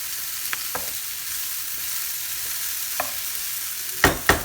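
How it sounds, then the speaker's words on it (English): Broccoli stir-frying on high heat in a pan, a constant loud hissing sizzle with a few light clicks of stirring and two sharp clatters of the utensil near the end, no voices. "High heat, and we're going to stir fry this broccoli."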